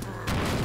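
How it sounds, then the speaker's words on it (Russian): A sudden explosion booms in a zombie car-smashing video game, a short, loud broadband blast that cuts in abruptly after a quiet moment and holds strong to the end. "Ого, вот это взрыв."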